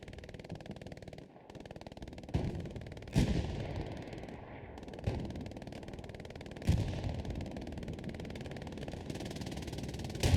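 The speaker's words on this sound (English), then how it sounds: "Machine guns kind of engaging each other from both sides." In the game Hell Let Loose, machine guns trade fire from both sides in rattling bursts at middle distance. A few louder volleys stand out over a steady background hum of battle.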